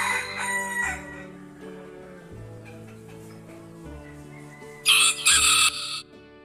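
A rooster crows loudly over cheerful background music, with a couple of strong bursts near the end.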